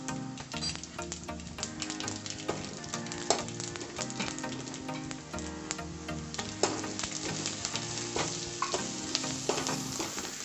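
Cumin and mustard seeds frying in hot oil, a dense, close sizzle with rapid crackling pops throughout and no talking.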